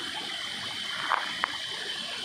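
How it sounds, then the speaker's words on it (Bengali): Rainwater trickles and gurgles through an ordinary drain in a monsoon forest near Jalpaiguri, with a faint, steady babble and a couple of small splashes heard alone. "এই ড্রেন দিয়ে না সুন্দর একদম কলকল শব্দ করে জল আসছে"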